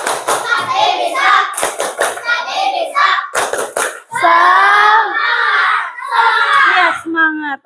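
Elementary schoolchildren in a classroom clap in sharp rhythmic bursts between loud chanted phrases, the whole group shouting and clapping together in a lively call-and-response pattern.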